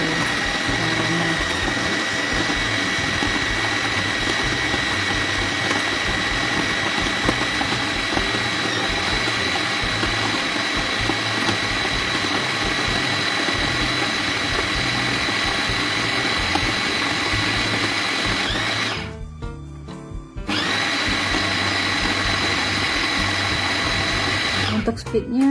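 A Philips blender runs at its highest speed crushing ice cubes, a loud continuous grinding motor whine that briefly drops off near the end before surging back.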